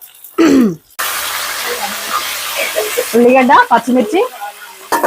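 Chopped onions and green chillies sizzle and hiss in a pan as the base for a large chicken curry, a steady frying crackle close by, with a voice talking over it and a brief throat sound at the start.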